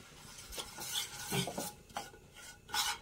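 A utensil stirs and scrapes through sugar melting in a pan, giving soft repeated rasping strokes at an irregular pace, fairly quiet with no voices.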